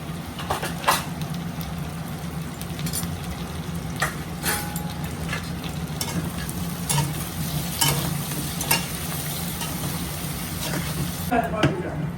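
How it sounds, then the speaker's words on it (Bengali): Pieces of elephant foot yam fry in a pan with spices, turmeric and salt while being stirred, producing a steady close sizzle with repeated scraping strokes and a faint low hum beneath. "ওলটা ভাজা হয়ে গেছে মশলা দিয়ে।"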